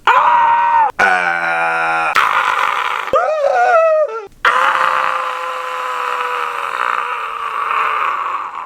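Anime screaming from One Piece's Thriller Bark arc, a loud run of shrill, wavering cries and groaning shrieks following one after another, with a warbling yelp in the middle and a long sustained scream closing the run.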